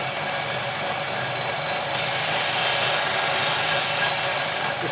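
A wood lathe turns a scrap hardwood file handle, a steady, continuous broadband whir with a low motor hum running evenly throughout, close and fairly loud with no talk.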